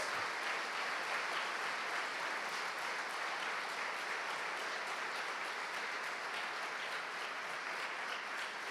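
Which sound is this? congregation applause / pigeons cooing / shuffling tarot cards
congregation applause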